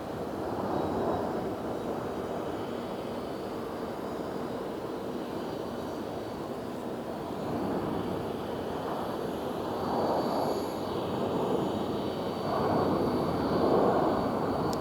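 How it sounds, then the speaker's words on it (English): A steady, broad roar from a jet airliner landing on runway 26 at Phoenix Sky Harbor airport. It rumbles loudly and continuously, swelling slightly toward the end, with no talking. "That's what I call a clean landing."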